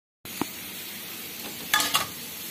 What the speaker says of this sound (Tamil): இப்போ இந்த தோலை நல்லா வதக்கணுங்க, அதில் இருக்க பச்சை வாசனை போகிற அளவுக்கு நல்லா வதக்கிக்கணும்.